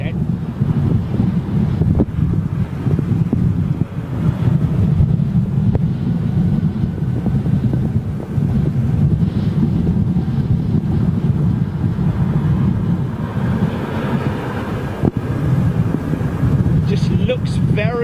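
Strong wind at London Heathrow airport buffets the microphone in a constant low roar and rumble, loud and steady throughout with faint distant aircraft-like noise beneath.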